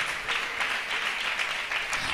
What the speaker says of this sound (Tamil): நல்ல கையை தட்டு.